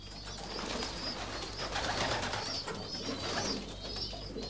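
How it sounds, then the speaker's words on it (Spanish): A male pigeon coos steadily in a rhythmic, soft repeating call, close and clear over light background noise, with no talking. "este emite un ruido característico llamado arrullo cada vez que quiere llegar al acoplamiento"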